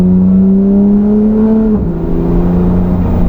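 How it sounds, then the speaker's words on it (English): A Porsche 911 GT3 with a decatted straight-pipe IPE exhaust holds a loud, close, steady engine note that drops in pitch partway through as the revs fall and settle. "We have got a Porsche 911 GT3 fitted with a full straight pipe IPE exhaust system, decatted all the way back, which means it is the loudest form you can have."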